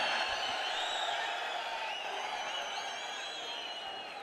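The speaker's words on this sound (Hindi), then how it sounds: "जोरदार तालियों से आइए स्वागत करें।" A large audience in a lit stadium welcoming the Chief Minister, a sustained roar of crowd noise with cheering and whoops that holds steady, then slowly fades toward the end.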